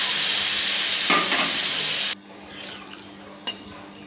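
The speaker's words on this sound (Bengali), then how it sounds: "এটা আমি এবার অল্প অল্প করে নিয়ে কড়ার মধ্যে পুরোটা ঢেলে দিচ্ছি" Curry is poured into a hot frying pan over spiced masala and stirred, giving loud broadband sizzling for about two seconds that then cuts to a faint simmer with an occasional clink of the utensil.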